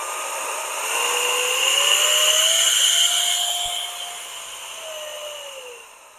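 A small electric blower runs continuously while cleaning a computer keyboard, its close whirring hum rising and falling in pitch as the speed changes.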